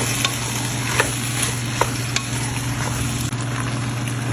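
Potato and carrot cubes stirred in a frying pan with cooked ketchup for pork menudo: a steady close sizzle broken by several sharp spatula scrapes and knocks over a low continuous hum.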